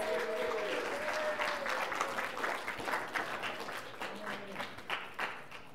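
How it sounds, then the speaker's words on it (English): Studio audience at a newlywed-style TV game show applauds steadily for several seconds as the couples come out, with a few voices and whoops mixed in. "give them a round of applause"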